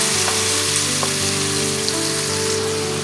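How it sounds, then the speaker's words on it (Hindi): Loud, dense frying hiss of chopped tomatoes cooking down with onions in a pan for a tinda chicken curry, steady and unbroken from start to finish. "अब टमाटरों को हम सॉफ्ट होने तक थोड़ा सा फ्राई कर लेंगे प्याजों के साथ।"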